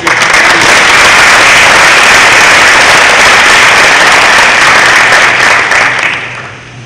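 An indoor audience applauds at a high school athletes' signing ceremony with dense, loud, sustained clapping that fades out near the end.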